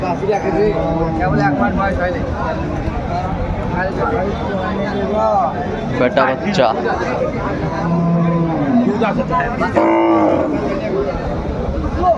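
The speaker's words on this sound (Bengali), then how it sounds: "গাভী বাছুর আমরা দেখছিলাম" Cows moo at a busy village cattle market (Aftabganj haat, Dinajpur) where cows with calves are sold, their low calls rising over a constant crowd of chatter and bargaining voices.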